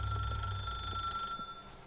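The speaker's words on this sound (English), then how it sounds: "Just gonna pace around the room until the phone stops ringing." A telephone rings in The Stanley Parable, a bright electronic bell tone with a steady hum beneath, fairly faint and alone, cutting off partway through.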